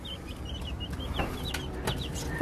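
Chickens on a small backyard homestead cluck in short repeated bursts over steady low farmyard rumble, close to the microphone with no talking.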